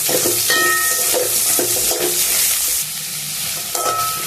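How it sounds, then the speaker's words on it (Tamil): Onions, ginger and garlic being stirred and fried in a pan for a spicy chutney, a loud continuous sizzle broken by repeated scraping strokes of the spatula, close up with no talking. "ஒரு மூணு வெங்காயம் கட் பண்ணி வச்சுருக்கேன் ரஃப்பாக அந்த போட்டு நல்லா மிக்ஸ் பண்ணிக்கலாம்"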